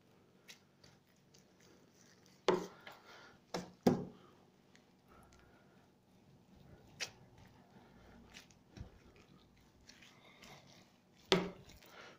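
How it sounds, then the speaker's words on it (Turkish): A thin fillet knife slices meat into fine strips for homemade iskender döner, making soft scattered cuts with several sharp board taps, close and quiet. "bir fileto bıçağınız varsa veya ince bir bıçağınız varsa onlarla da bunu açabiliriz"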